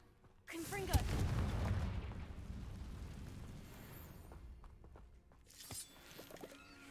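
Confringo explosive spell cast in a video game, a sharp blast that swells into a long rumbling, crackling roar and slowly decays, with a fainter burst later on.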